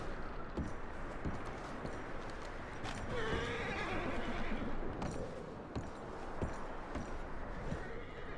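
A horse whinnies during Red Dead Redemption 2 gameplay while packs are loaded onto the horses, with a brief neigh heard amid hoofbeats, sharp clops and busy outdoor game noise.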